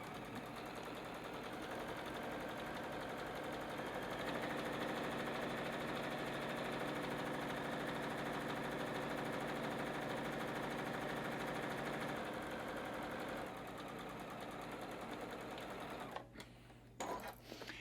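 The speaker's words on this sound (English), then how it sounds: "sewing pieces 1 and 2 together, but looking at piece 2 first with a 1/4-inch seam allowance" Sewing machine joins fabric pieces for a Christmas tree ornament gift card holder with a 1/4-inch seam, whirring steadily and evenly for many seconds before stopping, with no talk.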